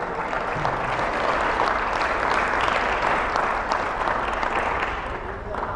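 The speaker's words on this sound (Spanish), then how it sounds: "Dale un aplauso a Jesús." A church congregation at a Spanish-language service applauds, steady dense clapping from many hands that swells and holds at moderate loudness for several seconds, with voices mixed in.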